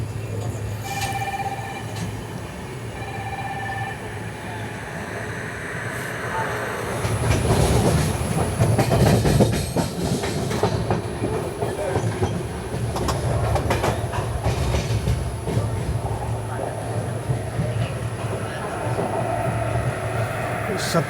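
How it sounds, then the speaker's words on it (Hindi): Mumbai Amravati Superfast Express train rolling on rails, a steady rumble with rhythmic clickety-clack of wheels over joints that swells louder midway and continues throughout, heard from on board. "सत्ताईस मिनट की देरी से 5:30 पर हमारी ट्रेन पहुंची है शेगांव।"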